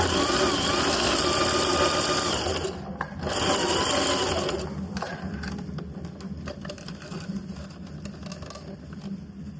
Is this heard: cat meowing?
no